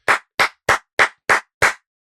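Six sharp hand claps ring out at an even, deliberate pace, close and loud, with clean silence between each clap and no talking.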